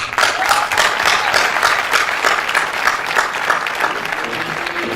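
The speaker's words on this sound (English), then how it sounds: "So let's give us a big round of applause." An audience at a high school graduation ceremony gives a big, dense round of applause, steady and loud throughout with no pause.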